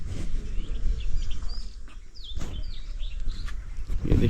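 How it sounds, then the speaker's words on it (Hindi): Birds chirp and tweet at sunrise in an open-air village, with scattered high calls over a steady low rumble of background noise. "चारों तरफ पक्षियों की चहचहाहट सुनाई दे रही है"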